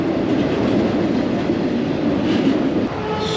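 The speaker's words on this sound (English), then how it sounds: "watching trains go by" Freight train rolling past on a Canadian railway line, a loud, steady rumble and clatter of wagons close by that holds without pause, with no talk over it.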